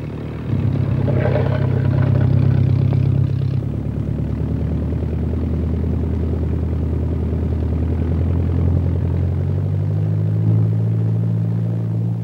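A de Havilland Chipmunk training aircraft's piston engine drones steadily while taxiing out, heard loud and close from the cockpit with a low rumbling hum that shifts pitch slightly partway through.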